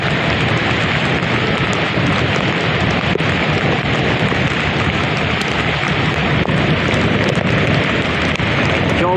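Heavy rain and gusting typhoon wind roar together over Manila Bay in a dense, unbroken wash of noise, loud and close throughout.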